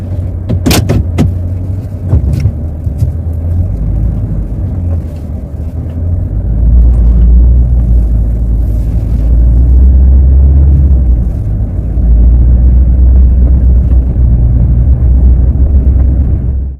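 Car rolling slowly around a campground at Goose Island State Park, Texas, with a loud, steady low engine and road rumble, a few sharp clunks near the start, and no talk.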